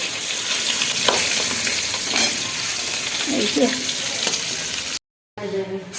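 Food frying in a pan during quick home cooking of a Bengali family meal, a steady broadband sizzle with occasional stirring scrapes, ending after a short silent gap with a brief burst of kitchen sound.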